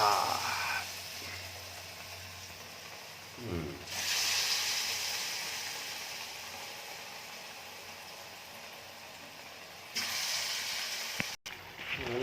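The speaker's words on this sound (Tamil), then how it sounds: "நல்லா பொரிஞ்சிட்டு வருங்க" Potato bajji fry in hot oil with a steady, soft hiss that swells into louder bursts of sizzling partway through and again near the end.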